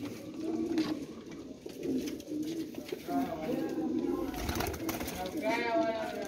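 A large pigeon cooing close by in bursts under steady talking voices, with some rustling and handling noise around it.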